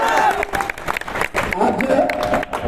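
Audience applause and cheering at a Bhimrao Ambedkar memorial talk on 14 April, a crowd clapping steadily throughout with voices mixed in.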